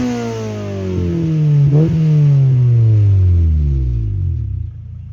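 Engine of a Honda Civic EK4 revs up and then slowly winds back down, a loud, close, sustained mechanical drone with a brief blip partway through and no talking.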